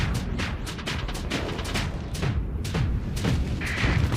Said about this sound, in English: Yep, the glory of an iron cannon. You just absolutely destroy everything.